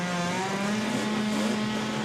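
Rallycross car with twin rotary engines racing at a RallyX Nordic round in Oulu: a steady, loud, high-revving engine drone with a sustained tone that shifts slightly in pitch, heard alone without talk.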